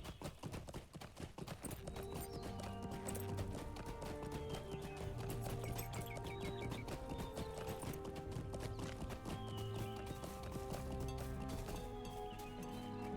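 Horse hooves clip-clop in a steady, brisk rhythm in the video game LOTRO, clear and continuous over a dense bed of game music.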